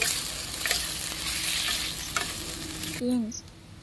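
Food with meat masala fries in a pan, sizzling steadily while a spoon scrapes and stirs it up close, before a brief sharper tone near the end.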